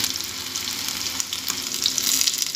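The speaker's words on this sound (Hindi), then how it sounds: "एक साइड फ्राई होने तक हमें वेट करना है" Vetki, or Asian sea bass, fish frying in oil in a pan, giving a steady close sizzle with crackling pops and no talking.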